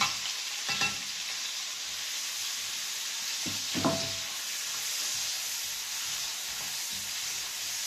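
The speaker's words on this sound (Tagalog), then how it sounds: "Gawa na mainit po ang ating mantika. Ilagay na po natin itong ating sibuyas." Sliced onion dropped into hot cooking oil, a constant broad sizzling hiss throughout with a few brief stirring clatters early on, moderately loud and close, no speech.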